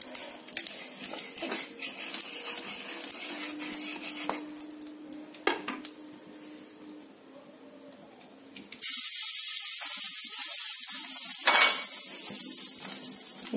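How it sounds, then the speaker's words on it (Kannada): Oil going onto a hot tawa for ragi dosa, with clinks of a utensil and pan first, then a loud, steady hissing sizzle that takes over and holds to the end. "ಇವಾಗ ನಾನು ಒಲೆ ಮೇಲೆ ತವಾ ಕಾಯೋದಕ್ಕೆ ಇಟ್ಟಿದ್ದೀನಿ, ಹಾಗೆ ಒಂದು ಸ್ವಲ್ಪ ಎಣ್ಣೆ ಹಾಕೊಳ್ತಾ ಇದ್ದೀನಿ"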